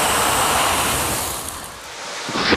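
A kitchen grease fire flares up toward the ceiling after being hit with a water-based fire extinguisher, making a loud, continuous roaring whoosh of flame that stays steady throughout with no voices.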